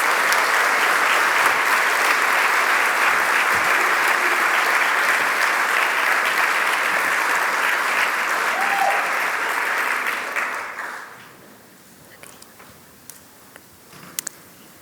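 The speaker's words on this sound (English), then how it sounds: "Let's give them a round of applause." Steady, dense audience applause at an awards ceremony honoring award winners, loud and sustained for about ten seconds before fading out into scattered claps and room quiet.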